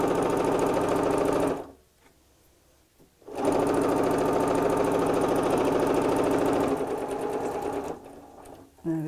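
A sewing machine stitches a tea cosy in a loud, steady run. It stops briefly while the needle stays down to pivot, then resumes and runs on before stopping again near the end.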